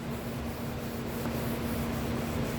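Rag rubbed across stained wooden furniture to wipe off excess wood stain: a constant close, dense rubbing hiss with no pauses and no talking.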